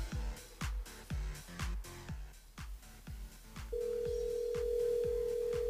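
Faint telephone tones pulse in a quick, regular pattern, then give way to a single steady held tone.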